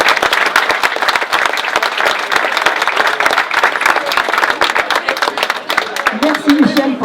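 An audience at a market event breaks into loud, sustained applause for the organiser, many hands clapping in a thick continuous wash, with a voice briefly rising over it toward the end.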